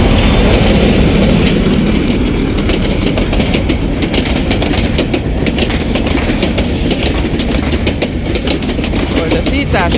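The Titas train rumbles past close by at Jinardi, Palash, Narsingdi, Bangladesh, loud and continuous, with a rattling clickety-clack of wheels over the tracks throughout.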